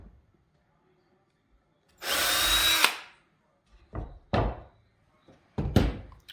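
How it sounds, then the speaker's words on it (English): Power drill boring through the mounting holes of a treadmill desk base into a wooden desk, one long loud burst followed by several shorter bursts with pauses between them. "So what we need to do first is drill through the center of these holes"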